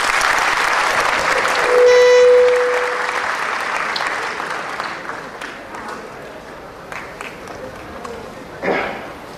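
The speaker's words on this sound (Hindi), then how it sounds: "जोरदार तालियां" Audience applause at a motivational seminar for students, a steady wash of clapping that swells early and then fades slowly, with a brief tone and scattered voices mixed in near the end.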